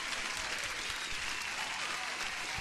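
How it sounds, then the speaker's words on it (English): Dense, steady applause at a constant level, like a crowd clapping loudly and continuously throughout, with no talk over it. "Hey Sarvesh, you deserve an applause, my man"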